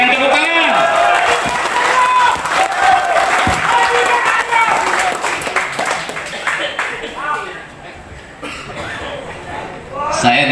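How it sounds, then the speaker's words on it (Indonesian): Crowd at a night political rally in Bengkayang for regent candidate Andi Max applauds and cheers loudly and continuously, mixed with voices and some coughs, fading slightly near the end. "Berikan tepuk tangan."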